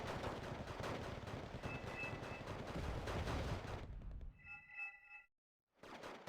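Blind gunfire in the strategy game Wargame: Red Dragon during a 3v3 tournament match, a dense rumbling barrage of shots for about four seconds, followed by sharp electronic pinging tones and a brief silence.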